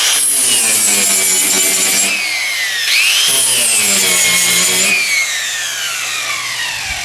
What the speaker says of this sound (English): angle grinder with a flapper wheel